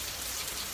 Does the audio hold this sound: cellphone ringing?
no